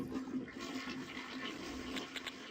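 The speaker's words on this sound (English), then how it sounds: "it just somehow aligned that I got the key at the same time as the flushing sound" A toilet flush from a video game soundtrack in the retro shooter Killing Time, a steady rushing, gurgling wash of water running continuously at moderate level with no talk over it.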